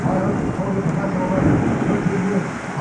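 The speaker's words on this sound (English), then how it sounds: "you can hear the rain hitting our door" Rain from a Tampa thunderstorm pounds against a door, a close, steady wash of drumming and hiss with low rumbling underneath, and a voice can be heard faintly.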